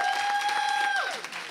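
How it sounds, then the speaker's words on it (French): A live audience at a French-language variety show applauds a visiting sound studio crew, with dense clapping and a bright sustained whistle-like tone that slides downward near the end. "On les applaudit aussi."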